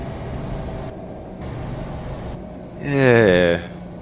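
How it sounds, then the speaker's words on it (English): Jake brake on a Western Star 49X truck in American Truck Simulator, a short, loud, buzzing engine-brake rattle that swells for under a second over steady engine drone. "Let's see how this Jake brake sounds."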